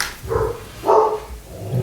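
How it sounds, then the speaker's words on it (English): A dog barks indoors in three separate bursts, a couple of deep woofs, then a louder bark, then a softer one, moderately close with quiet gaps between. "Please excuse the dog barking"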